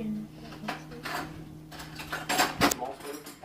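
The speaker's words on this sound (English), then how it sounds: "Let me get a spoon." Cutlery rattles and clinks in a kitchen drawer as a spoon is fetched, a brief metallic jangle with a louder clatter near the end, close up, with a person talking over it.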